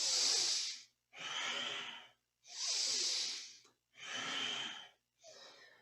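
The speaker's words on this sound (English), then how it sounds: "Focusing on a deep breath in and a complete exhale out." Deep yoga breathing during a Kundalini back routine: five long, loud breath cycles, each a rushing inhale or full exhale lasting about a second, separated by short pauses, close up with no talking.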